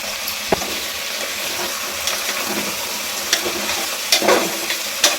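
Mutton pieces sizzle and fry in hot oil with turmeric while being stirred, giving steady crackling with scraping stir strokes that get sharper in the later seconds; close and loud, no voices.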